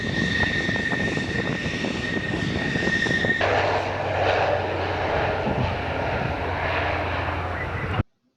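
An F-16 fighter jet passing nearby at RAF Waddington, a loud steady engine roar holding for several seconds before cutting off abruptly.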